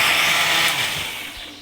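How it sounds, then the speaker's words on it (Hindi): A blender whirs through tamarind and plum pulp for sharbat, a loud, steady broadband roar that eases slightly in level toward the end, with no voices. "इमली और आलू बुखारे को ब्लेंड करने जा रहे हैं।"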